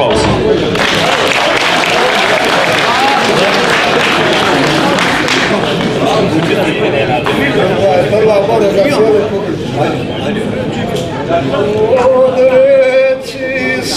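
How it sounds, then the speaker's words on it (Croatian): Audience applause at an ethno folk music festival in Rudo, a dense sustained clapping from a large crowd with voices and chatter mixed in. "Još jedan aplauz."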